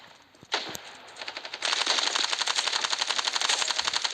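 Rapid automatic gunfire in the mobile shooter Standoff 2, a single short shot followed by sustained loud bursts of closely spaced rounds, with no voices.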